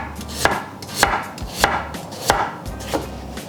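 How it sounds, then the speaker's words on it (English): Knife chopping through scrubbed baby potatoes into thin slices, with six sharp, evenly spaced chops that land about every half second, close and clear, and no one talking. "I've got some baby potatoes, really nice this springtime, and I'm going to chop through them, nice thin slices."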